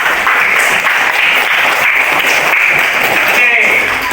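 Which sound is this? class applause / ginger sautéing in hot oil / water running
class applause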